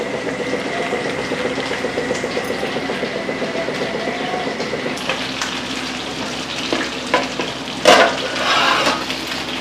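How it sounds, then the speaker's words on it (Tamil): Continuous bubbling and sizzling from a pot of biryani boiling on the stove, with a few clinks and scraping stirs rising near the end. "கொதிக்குது."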